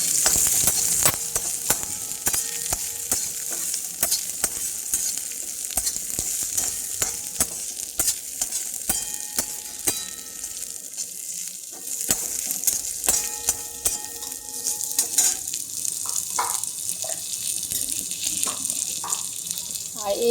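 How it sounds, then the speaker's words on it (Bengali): Black cumin seeds and garlic fry in a pan with a loud, crackling sizzle, while a spatula scrapes and clatters busily against the metal throughout. "এবার একটু নেড়ে নেব।"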